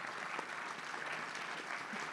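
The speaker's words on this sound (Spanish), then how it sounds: "Un aplauso al doctor." Audience applause at a law conference on pretrial detention, a steady, fairly faint wash of clapping from a seated crowd that continues evenly throughout.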